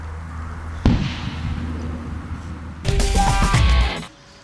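Explosives detonated beneath a layer of sand, a sudden loud blast followed by rumbling debris, then a second roaring burst that cuts off abruptly, leaving quiet.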